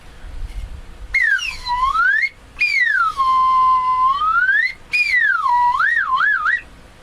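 A slide whistle plays loud, clear gliding tones, swooping down and back up in long smooth arcs separated by brief pauses, then ending in quick wavering warbles.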